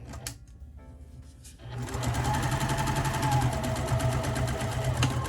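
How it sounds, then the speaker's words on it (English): A sewing machine starts up after a few faint clicks and runs steadily, a fast continuous mechanical whir close by. "So I am going to sew this, kind of pulling it very tightly here"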